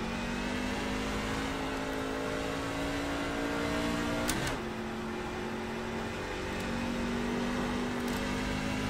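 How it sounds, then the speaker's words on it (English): Race car engine in the iRacing sim at Nashville Superspeedway, a steady loud drone with rising and falling pitch as another car approaches and passes around midway, then the engine note settles back. "There's a car approaching."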